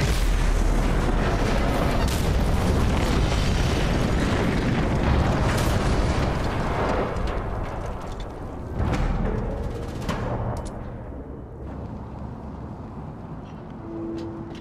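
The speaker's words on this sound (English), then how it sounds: "I'm not real sure what a good way to take advantage of that giant explosion is" Giant barrel explosion in the Mad Max video game, a heavy roaring boom that stays loud for several seconds before rumbling and fading into quieter debris and crackling.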